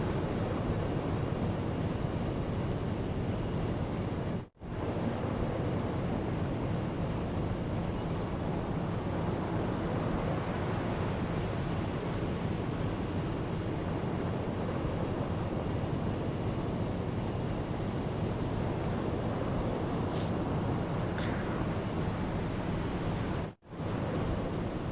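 Wind and ocean waves at sea in the submarine game UBOAT: a constant, full roar of surf and gusting wind with no talk, cutting out briefly twice.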